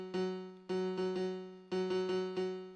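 A synth tone run through a Fruity Blood Overdrive distortion plugin sounds harsh, buzzing through a rhythmic series of repeated stabs with sharp onsets and slow decays, loud and alone.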